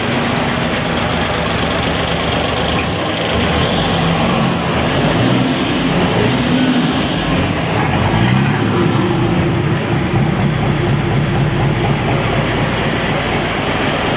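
A freshly repaired boat engine runs loud and close, a steady, dense mechanical drone that holds an even level throughout with no break.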